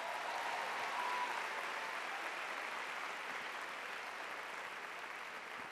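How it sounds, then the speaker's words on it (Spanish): Audience applause at a Christian concert, a continuous, fairly faint wash of clapping that holds steady for several seconds with no talk over it. "el equipo de Hosanna Visión merece un gran aplauso"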